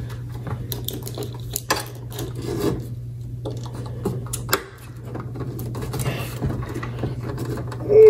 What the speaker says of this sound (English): Well, I can't get the last two screws out. They're too tight.